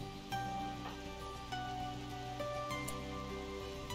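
Rain falling in RimWorld, a steady soft patter and hiss under faint background game music, low and continuous throughout.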